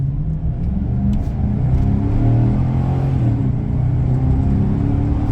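2007 Chevy Silverado Z71 4x4 with a 6.0L gas V8 and 6L90 transmission, a loud steady engine drone and road rumble from inside the cab during a quick run up to speed and back down.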